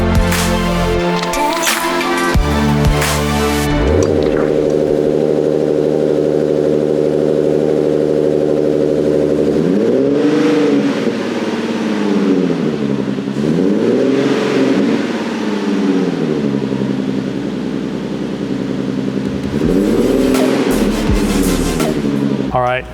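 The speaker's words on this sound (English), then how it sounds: "We're gonna turn her on right now and see how she sounds." A 2024 Nissan Z with Z1 turbo upgrades starting up and idling loudly nearby, its steady engine drone rising in several swelling revs, with a voice talking at the start.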